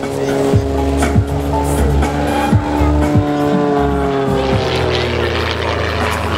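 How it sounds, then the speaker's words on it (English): Loud propeller aircraft engine noise from a Rebel 300 aerobatic plane with a highly modified 320-horsepower Lycoming 540 engine at an air show, with sweeping pitch changes as it maneuvers close by. "Powered by a highly modified Lycoming 540 cubic inch engine, that's nearly 8 liters of engine using modern terminology"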